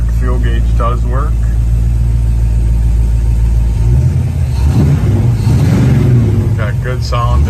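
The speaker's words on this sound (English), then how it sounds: "Got good sounding dual exhaust on it." The 351 engine of a muscle car runs through dual exhaust with a steady, deep idle rumble that swells into a louder rev partway through, heard up close while someone talks over it.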